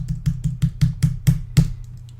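Fingers type on a computer keyboard while text is entered into an Android app, about eight distinct keystrokes in a fairly even rhythm, close and clear, then a short quiet tail.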